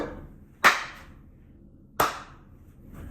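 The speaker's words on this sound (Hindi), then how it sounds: "देखा क्या, मैं ताली बजाई, लाइट जल गई एकदम से" Two crisp, sharp hand claps about a second and a half apart in a quiet indoor room, each a close snap with a brief decay, meant to switch on a clap-activated light.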